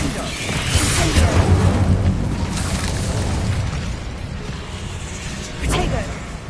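An Incendio fire spell cast in Hogwarts Legacy bursts with a roaring whoosh and rumbling boom that swells and fades, followed by a second sharp burst near the end.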